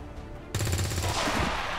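Sudden burst of rapid automatic gunfire in the XCOM 2 video game, loud and close, starting after a half-second lull of low background and running continuously to the end, with no talk.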